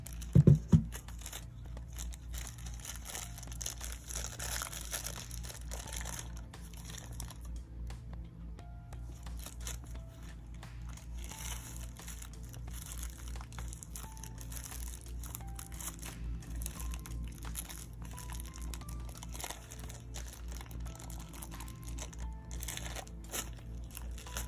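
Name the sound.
tearing open plastic packaging of a wireless tattoo machine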